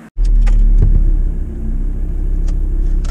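A Volkswagen T4 van engine cranks and catches, then settles into a loud, steady low idle rumble heard close up, with no talk over it.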